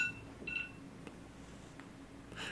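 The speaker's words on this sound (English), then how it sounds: "Really and truly, I forgot I had a 2:30 alarm." A phone alarm gives a short electronic beep, followed by faint clicks and another soft tone, quiet and close against a hushed room.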